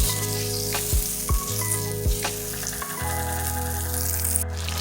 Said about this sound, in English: in a heated pot, I'm going to add my half a stick of butter. And we're going to allow that to melt.